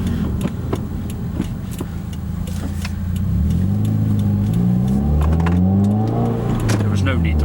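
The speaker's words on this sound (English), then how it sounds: "There was no need to really downshift there" A 2016 Subaru WRX engine hums under load, then blips and revs up during a heel-toe downshift, the pitch climbing and falling in smooth sweeps, loud and close inside the car.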